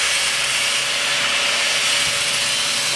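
Metal lath being cut into sections for shaping over a brick oven dome, a steady, close abrasive cutting noise that runs continuously with no pauses or talk.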